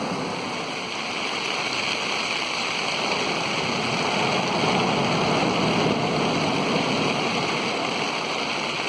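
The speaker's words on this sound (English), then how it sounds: "the noise of the sea and the rain" Sea waves and rain on Cart Gap beach in Norfolk during fishing, a steady, dense wash of surf and rainfall without a break and no voices.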